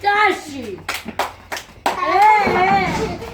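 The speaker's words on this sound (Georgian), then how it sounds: "ტაში" Young children clap their hands in a quick series of sharp claps, close by and mixed with their excited chatter and talk before and after.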